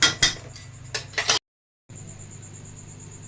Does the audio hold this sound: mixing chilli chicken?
yes